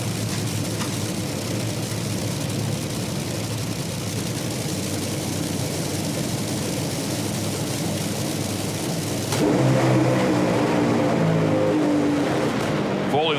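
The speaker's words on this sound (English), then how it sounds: "Krista's car was on a really nice run" Nitro drag racing cars making a run at an IHRA Outlaw Nitro Series event in Columbus, Ohio: a loud, sustained engine roar that shifts and intensifies near the end, with a commentator talking over it.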